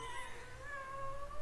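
An upset cat meows at an automated cat feeder, giving one drawn-out, wavering complaint that sounds close and clear.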